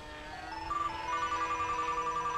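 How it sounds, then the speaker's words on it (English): A telephone rings nearby with a repeated electronic ringtone, a rising pattern of tones that becomes a steady pulsing ring, heard alone with no talk. "Don't worry about the phone."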